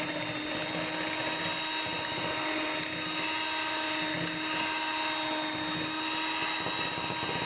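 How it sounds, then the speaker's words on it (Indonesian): An electric hand mixer beats roll cake batter at raised speed, a steady whirring motor hum running unbroken throughout with no pauses or talk. "Ini proses saya menggunakan mixer, tidak akan saya skip supaya kalian tahu nanti berapa menit saya pergunakan mixernya"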